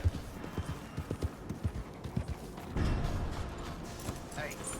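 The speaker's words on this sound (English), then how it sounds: "we're going to ride our horse over here" Horse hooves clip-clop in Red Dead Redemption as the rider heads toward an oil wagon, a run of quick rhythmic thuds that then gives way to a louder rumbling stretch of game noise.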